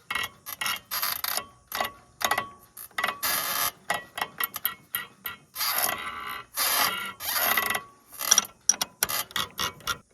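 A Farmall tractor's friction throttle lever is worked by hand, the bolt turning inside it with a series of close, dry ratcheting clicks and grinding bursts separated by short pauses.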